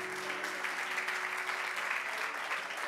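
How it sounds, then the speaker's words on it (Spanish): Steady, dense applause from a church congregation during a sermon, a continuous wash of clapping with no gaps, held at an even level throughout. "Dele un aplauso bien fuerte."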